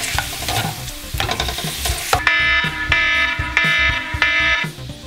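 A kitchen timer alarm beeps in repeated loud bursts, about four rings, after food sizzling and stirring in a pan while toasting coconut flakes for blackened coconut lime shrimp.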